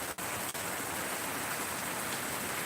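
Heavy rain pours steadily in an open setting where fires have been burning, a dense continuous hiss with no break, joined by two brief sharp knocks near the start.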